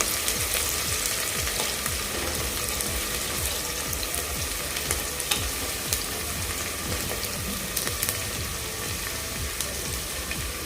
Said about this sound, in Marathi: मिरच्याही आपल्या व्यवस्थित भाजल्या गेल्या आहेत